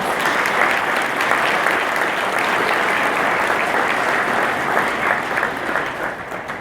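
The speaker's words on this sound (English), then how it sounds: "let's give them a big round of applause" Sustained applause from a large crowd at an annual awards event, steady and loud throughout with dense clapping and no pauses.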